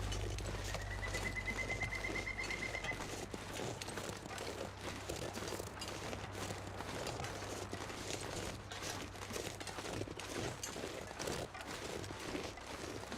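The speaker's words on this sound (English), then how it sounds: "other than hearing bird noises" Birds call intermittently in the quiet wilderness of The Long Dark survival game, a faint scatter of chirps over a steady low wind-like ambience, with no talking.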